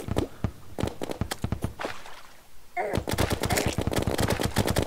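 Rapid bursts of gunfire from the Terraria video game, loud and close, a fast volley, a short lull with a swelling noise, then an even denser stream of shots to the end.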